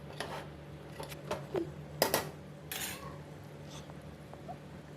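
Chicken curry being served from a pot into a bowl: several sharp metallic clinks and scrapes of a utensil against cookware, close up, with no talking.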